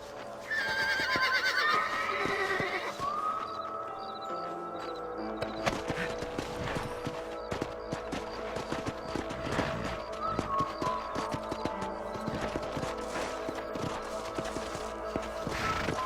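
In the video game Red Dead Redemption, a horse whinnies and neighs near the start, then hoofbeats clop along with rustling and occasional knocks, all fairly loud and continuous.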